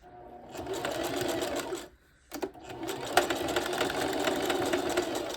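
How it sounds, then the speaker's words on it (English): A Singer sewing machine runs fast stitching a wig cap, a steady mechanical whir that stops briefly midway, gives a short burst, then resumes and continues to the end. "I can feel the sewing machine feeding in faster because they aren't closer together"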